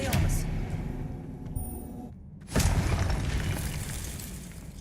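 Spell-casting effects from the video game Hogwarts Legacy: a dense burst-and-crackle impact texture, briefly dropping out before a fresh loud blast, with spoken voice mixed throughout.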